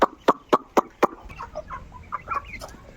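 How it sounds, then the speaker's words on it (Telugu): Chickens cluck close by, starting with five loud, evenly spaced clucks and then trailing into softer, quicker murmuring chatter. "ఈ కోడి కూడా గుడ్లు పెడుతుంది"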